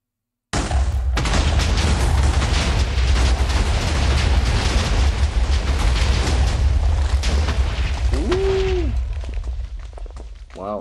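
A thunderous TNT blast in a video game, a sustained roaring explosion that rumbles loudly for several seconds before trailing off, with a brief whistling tone near the end.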